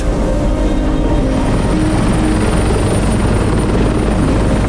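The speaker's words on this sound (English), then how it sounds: "When the helicopter came in, I had a window seat" A loud, steady helicopter rotor thumps and roars throughout, very close and constant, heard from a window seat inside the helicopter, with no voices.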